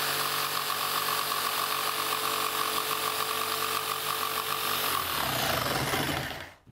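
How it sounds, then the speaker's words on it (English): A jigsaw cuts the shape of a wooden Greenland paddle, its loud, dense buzzing rasp running steadily for about six seconds before cutting off abruptly at the end. "something really important you need to know about cutting with jigsaws"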